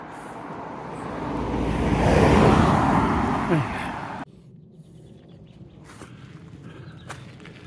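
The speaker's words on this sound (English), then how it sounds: "I can hear a car behind me." A car passes on a country road behind someone walking a grassy path, its broad rushing swell building and peaking mid-clip before cutting away to quiet outdoor ambience with birds.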